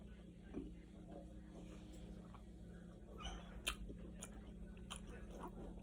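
Someone chews Little Caesars pizza with crispy-edged crust close to the mic, with soft, faint, irregular crunching and mouth sounds over a low background hum.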